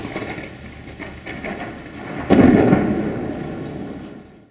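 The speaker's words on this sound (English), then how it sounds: "So you're caught in a lightning storm." A thunderclap booms during a lightning storm in a wilderness area while backpacking, a sudden loud crack at mid-clip that rolls off slowly over steady rain.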